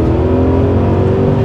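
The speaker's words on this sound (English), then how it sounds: "I was downshifting here as we're kind of waiting for someone to turn into a lot" A BMW E39 M5 engine revs steadily during a rev-matched downshift in a manual car, a loud, close, continuous engine drone with no talking.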